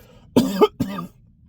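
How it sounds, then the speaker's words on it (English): Two close coughs from a person recovering from a cold, the first a double burst and the second shorter, loud and near in a quiet room. "As soon as I said it, I coughed."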